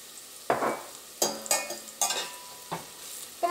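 Turmeric powder frying in hot coconut oil for a Kerala egg and potato stew, with sharp sizzling bursts as a spoon stirs the pan several times in an irregular rhythm, close and fairly loud, no talking.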